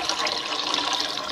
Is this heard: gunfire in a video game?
no